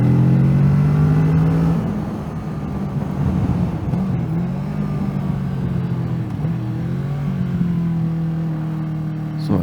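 Kawasaki Z650 motorcycle engine on a test ride, a steady low mid-range drone with a sustained tone that dips slightly as the throttle eases and then holds, loud and close throughout.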